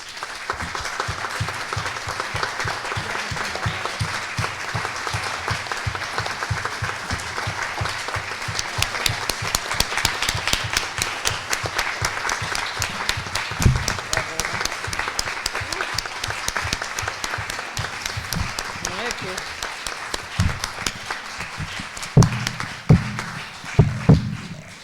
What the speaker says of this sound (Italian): vorrei con un grande applauso introdurre